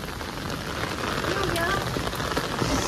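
Steady rain pours down onto a flooded residential lane where the water has filled the whole street, a dense, continuous close hiss and patter with no pauses, and no voices over it.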